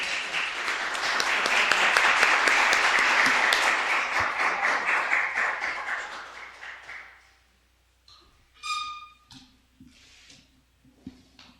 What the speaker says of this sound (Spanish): les pediría nuevamente un aplauso